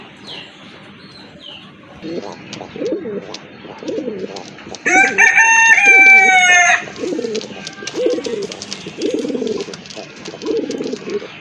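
Pigeons coo in a rhythmic series of low calls close by, with a louder bird call breaking in midway and brief speech at one point.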